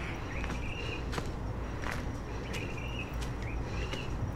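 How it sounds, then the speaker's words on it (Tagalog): Birds sing outdoors in Catanduanes, with short high chirps and whistled calls scattered through a steady, loud wash of outdoor ambience, including some sharp nearby clicks. "mga huni ng ibon na maririnig nyo, it's not edited"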